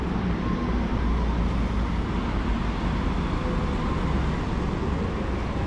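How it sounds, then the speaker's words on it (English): City bus pulling in at a stop in San Antonio, Ibiza, a steady loud roar of engine and street traffic rumbling close by throughout, with no voices. "Here comes another bus."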